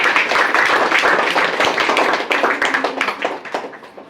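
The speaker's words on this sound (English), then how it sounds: "Give them a huge round of applause." A crowd at a school event gives student representatives a big round of applause, loud dense clapping from many hands that carries on steadily, then tapers off toward the end.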